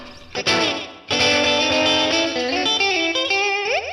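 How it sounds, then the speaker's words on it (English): Loud distorted electric guitar chords ringing out with a quick repeating echo trailing each strum, followed by a sliding bend at the end. "I'm also trying to get away from the slapback echoey sort of sound"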